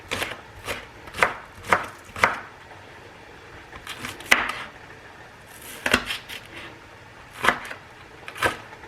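A knife chops green onions on a cutting board in a series of sharp, close taps, several quick strikes in irregular bursts with short pauses between, no talking.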